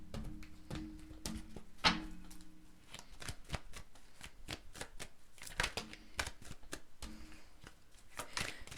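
Tarot cards are shuffled and pulled in a run of crisp, rapid riffles and flicks with sharp slaps, close and fairly quiet, with no talking.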